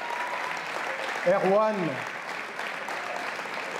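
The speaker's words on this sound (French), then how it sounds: "Je voudrais vraiment qu'on l'applaudisse bien fort" An audience at a public meeting in La Courneuve applauds an activist, a steady bed of many hands clapping that a voice briefly cuts through as he calls out a name.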